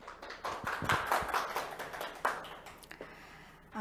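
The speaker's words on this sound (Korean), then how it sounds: "여러분 큰 박수 부탁드리겠습니다" An audience at a corporate tax and finance seminar claps, giving faint, scattered, uneven hand claps rather than a full roar, tapering off over a few seconds.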